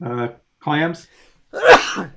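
A single sneeze bursts out loudly and close at the end, right after a short spoken question, with people talking around a game table.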